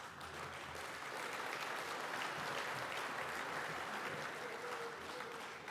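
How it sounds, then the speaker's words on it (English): Audience at a forestry group event with the Deputy Prime Minister present breaks into continuous applause, a steady, fairly distant wash of many hands clapping without a break. "Can I ask you to hold your applause until the end?"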